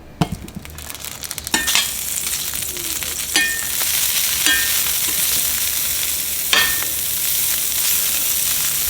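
Butter sizzling and frying in a hot pan for shrimp fried rice, a steady loud crackle throughout with occasional utensil clinks and stirring, no talking.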